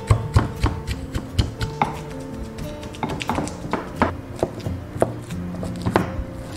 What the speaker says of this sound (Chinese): 把蒸熟的山药趁热加入白糖， 然后给它捣碎。